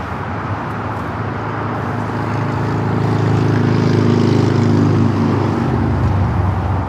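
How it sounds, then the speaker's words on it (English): A Boeing 777 beginning its takeoff roll on LAX runway 25 right, a distant rumbling engine roar that swells and grows louder midway, then eases slightly, with no talking. "as we wait for the other 777 to start its roll down to 25 at right"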